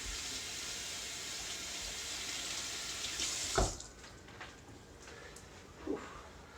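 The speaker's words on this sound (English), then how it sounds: "I just mindlessly wash my hands without soap." A tap runs steadily into a sink during handwashing without soap, a continuous near hiss that cuts off partway through, followed by a couple of soft knocks and splashes in the quieter room.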